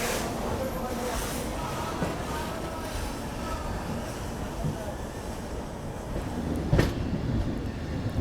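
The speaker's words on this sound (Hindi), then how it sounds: "चलिए निकल चुकी है ट्रेन अपनी भुवनेश्वर से।" Purushottam Express pulling out of Bhubaneswar railway station, steady rolling rumble of the train with faint rhythmic wheel clatter and a sharp clank near the end, moderately distant, with talking in the background.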